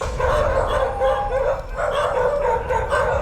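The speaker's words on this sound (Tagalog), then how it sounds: "doon palang kakahol yung aso" A dog barks repeatedly at night in a Philippine neighborhood, the barks loud and fairly near, mixed with yips and whimpers in an uneven run over steady background noise, with no voices.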